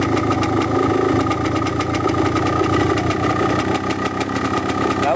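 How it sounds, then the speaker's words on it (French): Motorcycle engine idling steadily and loudly up close, its revs climbing slightly after the carburettor air screw is turned, a continuous uneven mechanical drone. "Là vous entendez le régime qui augmente."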